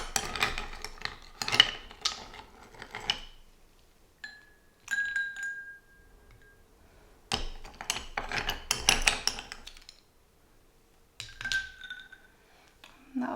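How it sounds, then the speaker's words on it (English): Ice cubes dropped into a glass of laal sharbat, a red rose-flavoured drink, giving clusters of bright clinks and rattles in two main bursts with quiet gaps between, close and fairly clear. "I am just going to add the ice."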